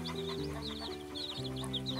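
Chickens cluck over a farmyard backdrop with a dog nearby, several soft calls repeating steadily at moderate distance with no talking.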